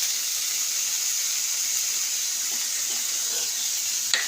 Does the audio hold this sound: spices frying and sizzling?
yes